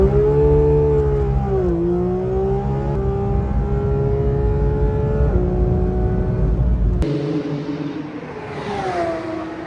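A Porsche 992 GT3 RS engine droning at steady high revs, pitch dipping and rising through gear changes, then an abrupt cut to a quieter, lower engine tone with some wind noise near the end.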